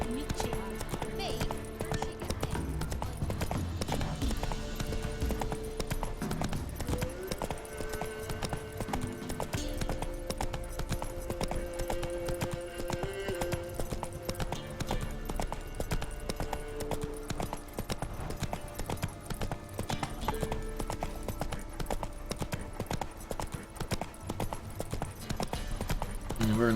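Horse hooves galloping steadily in The Witcher III: The Wild Hunt on PC, a rapid continuous clip-clop that runs for nearly half a minute, mixed with game music and ambience and occasional spoken voices.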